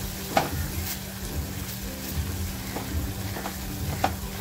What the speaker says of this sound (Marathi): आपला मसाला आहे ना छान फ्राय झालेला आहे